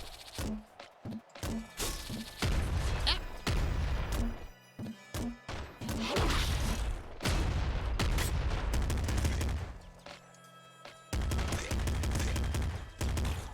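Submachine gun fire in a roguelike video game, loud clipped bursts and rapid volleys that rattle on almost without pause, with heavy thumping impacts mixed in.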